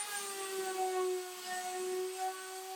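A random orbit sander works over wood pieces for a pool cue rack, moving through grits from 60 to 220, giving a steady, moderately loud whine with a humming tone and no talk.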